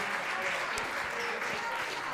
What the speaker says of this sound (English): Guys, clap it up for Steve